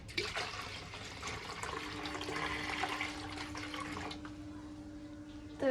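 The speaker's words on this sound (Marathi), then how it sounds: "तर थोडं पाणी टाकू आपण." Water splashes steadily into a freshly set-up backyard fish pond, a continuous pouring rush with a faint tonal hum underneath, ending in a brief louder splash.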